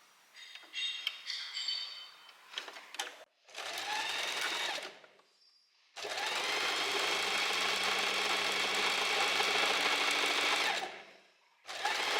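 A domestic sewing machine stitches a 1.5 cm seam on blouse straps, running in several bursts: short starts early on, then a long steady whirring run before stopping.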